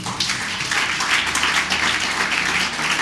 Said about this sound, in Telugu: మీరు వారి కొరకు ఒక గట్టి చప్పట్లు కొట్టచ్చు.